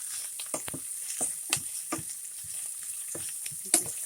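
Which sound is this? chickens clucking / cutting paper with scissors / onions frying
onions frying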